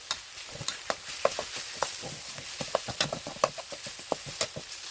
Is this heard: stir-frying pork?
yes